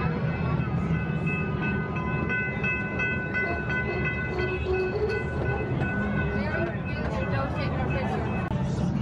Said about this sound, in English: Kind of a boring train ride, to be honest.